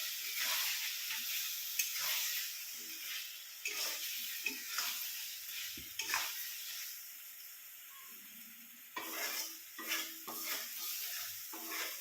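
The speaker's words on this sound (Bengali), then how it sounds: "একটু গ্যাসটা কমিয়ে দিয়ে নাড়তে হবে, তা না হলে" Chicken kosha masala being stirred in a pan on a gas stove at lowered heat, a soft continuous sizzle and hiss broken by repeated scraping strokes of a spoon, moderately quiet and close, without talk.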